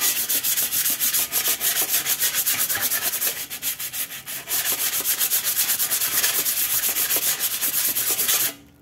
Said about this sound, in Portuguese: eu vou lixar aqui as duas, né? Só pra dar uma arranhadura